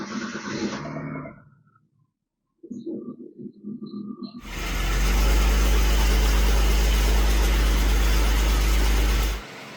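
After some brief clattering and a pause, a Mitsubishi Galant sedan's engine cranks and catches, then settles into a loud, steady idle that cuts off abruptly.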